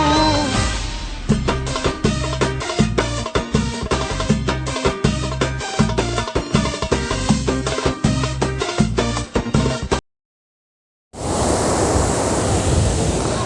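Sea waves wash onto a beach in Gaza as a broad, steady roar near the end, after a long stretch of rhythmic music and a brief silence.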